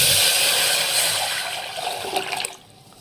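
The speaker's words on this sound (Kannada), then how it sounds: "ಈಗ ನೋಡಿರಿ ಮಸಾಲೆ ಒಂದು ಸ್ವಲ್ಪ ಫ್ಲೇವರ್ ಬಿಟ್ಟಾದಮೇಲೆ ಈಗ ಇದರಲ್ಲಿ ನೀರು ಹಾಕೊಂಡ್ಬಿಡೋದು" Water poured into a pan of fried spices for egg tawa pulao, a loud close rushing gush that runs steadily for about two and a half seconds, then tapers and stops.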